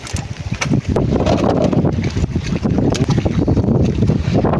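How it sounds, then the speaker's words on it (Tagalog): Strong typhoon wind roars loud and steady against the microphone for the whole stretch, a dense buffeting rumble with gusty surges and no clear voices. "Okay lang na malakas yung hangin, wag lang mag-ulan."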